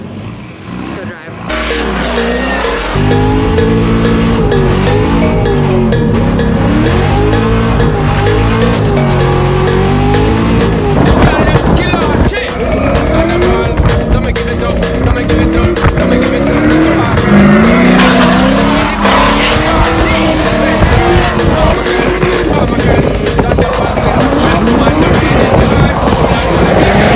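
A car on a race track at a Gridlife event roars loudly and close, engine revs rising and falling through gear changes with brief tire squeal, while a voice talks over the noise.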